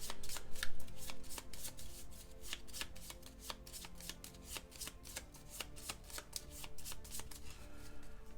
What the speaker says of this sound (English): Shuffle your deck after it was searched.